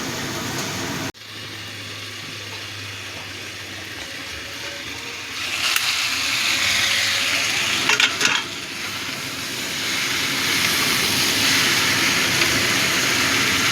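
Prawns frying in a pan of mixed vegetables with tomato, ginger and cumin, a constant sizzle and bubbling that swells partway through, broken by a few sharp clinks, with no talking.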